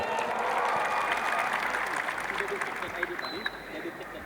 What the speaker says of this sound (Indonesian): Tepuk tangan untuk jurnalis Indonesia.